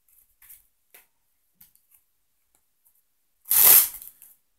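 A deck of playing cards is cut and shuffled during a card trick: a few soft faint ticks and taps, then one loud, brief riffling burst near the end, followed by a small tap.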